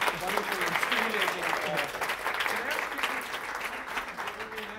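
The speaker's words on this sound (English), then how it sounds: "applause for a wonderful, wonderful and stimulating." An audience applauds after a talk on music, dance and social change, a steady crowd of clapping hands with voices chattering underneath.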